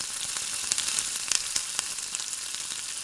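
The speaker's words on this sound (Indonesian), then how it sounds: "Ini kita goreng hingga kecoklatan atau golden brown." Small snacks frying in hot oil until golden brown, a steady bright sizzle with scattered pops and crackles, close and continuous with no talking.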